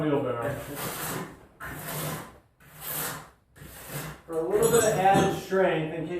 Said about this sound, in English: We're scraping that wheelbarrow.